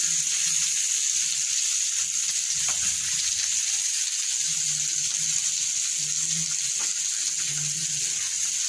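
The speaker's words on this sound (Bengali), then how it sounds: "তেল দিয়ে সবজিগুলো ভেজে নিচ্ছে" Vegetables fry in oil for chow mein, a steady broad sizzle running unbroken with a few soft low clunks of stirring and pan movement close by.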